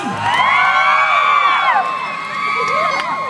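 A live audience at a Thai comedy stage show cheers and shouts loudly, with whoops and excited voices rising over one another, dipping briefly before swelling again.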